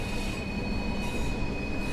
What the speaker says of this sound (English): that squealing sound you can hear is the flanges on the wheels